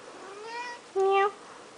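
A pet cat meows twice, a softer drawn-out call followed by a louder, sharper one, heard close by in a quiet room.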